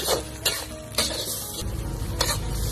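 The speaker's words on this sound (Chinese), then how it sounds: "下木耳，给它翻炒" Wood ear mushrooms being stir-fried in a pan, with scraping spatula strokes and light clinks over a steady sizzle that swells in the second half, close up.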